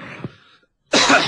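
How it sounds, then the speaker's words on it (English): A single cough from a man, one short harsh burst after a brief throat sound and a moment of silence. "I've had this cough for quite some time"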